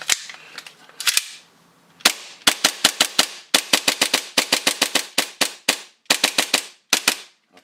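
A custom full-auto BBU on an airsoft gun fires dry with no BBs loaded, giving loud sharp snapping cracks in quick bursts and strings separated by short pauses, close and free of talk.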